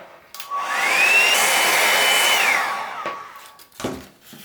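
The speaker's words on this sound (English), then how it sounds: "So you can get the hairdryer again." A hairdryer whirs up to a steady loud blow for about two seconds, then winds down, followed by a few faint handling clicks.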